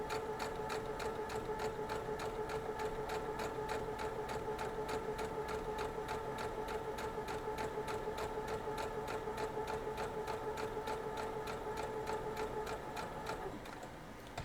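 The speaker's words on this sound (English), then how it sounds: "we're just going to sew right down through it" A sewing machine stitches through a quilt block in one continuous run, a steady rapid mechanical whir with fine rhythmic ticking, close and moderately soft, slowing and stopping at the very end.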